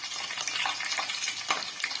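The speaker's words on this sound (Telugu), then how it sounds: "పోపు అయితే వేగుతూ ఉంది" Mustard seeds, cumin, green chilli slits and curry leaves sizzle and crackle in hot oil for a carrot rice tempering, with a steady close hiss and occasional sharp pops and a stirring scrape.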